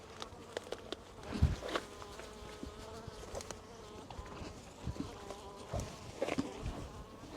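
A bee buzzes close by, its drone rising and falling continuously, with a few soft taps and bumps mixed in.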